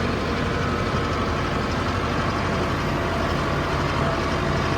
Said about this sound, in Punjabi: ਬਹੁਤ ਸੋਹਣਾ ਚੱਲ ਰਿਹਾ ਬਹੁਤ ਬਹੁਤ ਵਧੀਆ ਬਾਈ ਟਰੈਕਟਰ ਦਾ